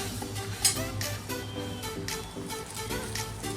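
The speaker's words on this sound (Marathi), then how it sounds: "आता आपण तीळ भाजून घेणार आहोत ते पण हलकेसे भाजायचे" Sesame seeds being lightly dry-roasted in a pan for a traditional homemade chutney, a continuous soft crackle and sizzle with scraping stirs and occasional utensil taps, close up and alone.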